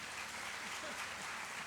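Audience applause for devotees at a religious Murti Pratishtha festival gathering in Mahuva, a steady wash of many hands clapping throughout, fairly distant and even, with faint voices beneath.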